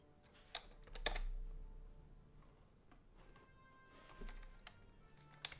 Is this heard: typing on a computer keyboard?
yes